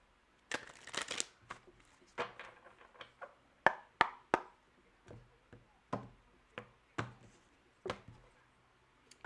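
Tarot cards being shuffled by hand, a run of crisp riffling and tapping bursts at a steady pace, close and fairly quiet with no talking.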